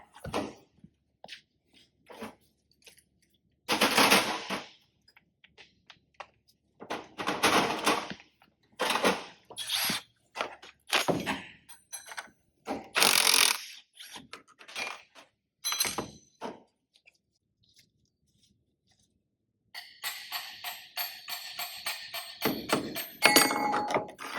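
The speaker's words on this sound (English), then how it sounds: "we got to get this bolt out of the collapsible portion of the shaft" Hand tools work on a bolt on the collapsible steering intermediate shaft of a 2007 Chevrolet Suburban, giving scattered sharp metallic clicks and knocks and then a quick burst of ratcheting near the end.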